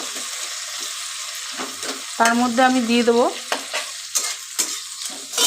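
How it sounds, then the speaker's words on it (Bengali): Onion fries in a pan for mixed dal khichuri with a constant sizzle and stirring, loud and close, while someone speaks briefly over it. "পেঁয়াজটাকে ভালো করে আমি লাল লাল করে ভাজা ভাজা করে নেব"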